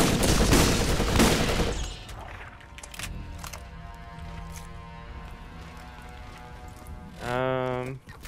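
Gunfire bursts in the video game Borderlands open loud and dense for about two seconds, then fade into a quieter stretch of game ambience, with a brief tonal game sound near the end.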